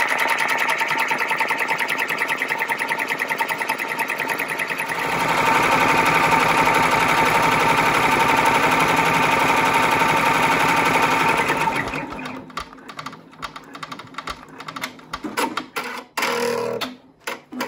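A computerized embroidery machine stitching Richelieu embroidery runs with a loud, rapid, steady needle clatter for about twelve seconds, then stops, leaving scattered clicks and handling knocks close by.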